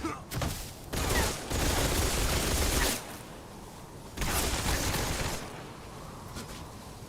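Heavy gunfire in the Metal Gear Solid Delta: Snake Eater video game, with dense bursts of loud shots for several seconds, a pause, then another sustained volley.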